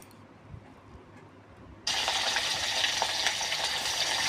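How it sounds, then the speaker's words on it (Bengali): Quiet kitchen background, then a loud, steady sizzle of fish frying in hot oil for a Bengali fish curry bursts in and continues crackling to the end. "মাছ ভাজা বসিয়ে দিছি"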